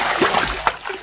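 A man is dunked into a bathtub full of water in an old radio western, making one short, close splash with a sloshing churn of water.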